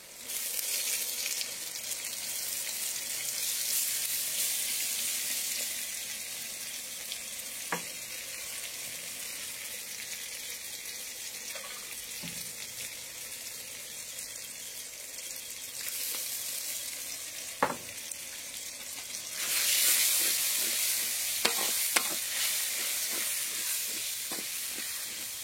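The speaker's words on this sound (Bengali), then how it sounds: "আমরা ততক্ষণ নাড়তে থাকবো যতক্ষণ না মশলাগুলো ভাজার সেন্ট আসা শুরু হচ্ছে।" Spices with water-soaked chili powder frying for a chicken curry, a steady close sizzle and hiss with occasional scraping strokes of stirring and brief surges of steam throughout.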